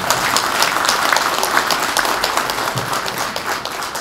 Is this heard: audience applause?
yes